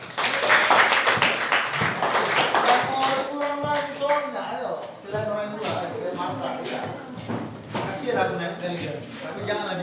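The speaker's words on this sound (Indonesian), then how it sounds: "Tepuk tangan untuk dia." Scattered clapping from students in a classroom during a lesson on limits of algebraic functions, uneven and overlapping with voices chattering throughout and some tapping and shuffling.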